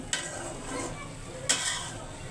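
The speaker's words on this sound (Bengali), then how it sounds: "আলু দিছি আর টমেটো দিছি, কাঁচামরিচ দিয়ে ভাজি করতেছি।" Potatoes, tomatoes and green chillies frying in a pan for a vegetable bhaji, a steady soft sizzle broken by two sharp stirring scrapes.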